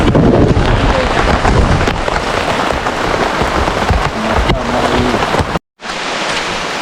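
Steady, loud rain pours down outdoors at a farm, a dense continuous hiss of drops hitting surfaces that fills the scene almost throughout, with a brief cut near the end before the downpour resumes.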